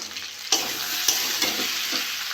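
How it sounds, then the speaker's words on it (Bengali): Chopped tomatoes with coriander powder, cumin powder and salt sizzle in a pan as they are stirred, with steady frying hiss and a few sharper scraping strokes, close and moderately loud, no voices. "ভালো করে কষে নেবো মশলা দিয়ে"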